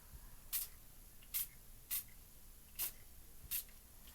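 A spray paint can fired in five short, evenly spaced hissing bursts, close but fairly quiet against a faint background hum.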